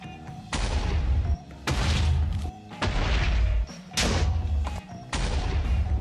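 Dynamite exploding in Minecraft while digging a tunnel for a metro, five loud blocky booms, each lasting about a second with short quiet gaps between, in a regular repeating rhythm.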